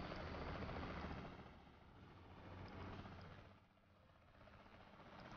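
Helicopter in a chase sequence from the video game Saints Row: The Third, a steady broadband rotor and engine roar with a low drone, loud and continuous, swelling and dipping slightly in level throughout.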